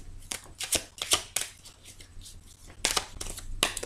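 Oracle cards are shuffled close up in a series of sharp, papery riffling bursts with short pauses between them, and no talking.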